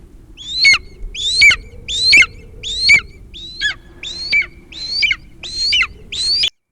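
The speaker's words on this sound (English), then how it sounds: "A large eagle soared towards Thorg and thrashed at him" An eagle lets out a series of nine sharp, high, screeching cries in a steady rhythm, loud and close over a low wind-like rumble.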